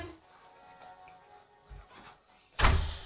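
Faint quiet room with small taps, then a single sharp door thud near the end, fairly close.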